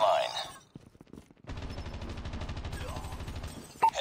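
Rapid automatic gunfire rattles steadily for a couple of seconds in Call of Duty Mobile, close and moderately loud, with a brief voice before it.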